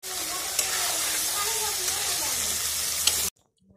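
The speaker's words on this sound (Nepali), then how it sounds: "यहाँ चाहिँ सिद्रा फ्राई हुँदैछ." Dried fish, called sidra, fries in a pan with a loud, steady sizzle and hiss that runs continuously, then cuts off abruptly near the end.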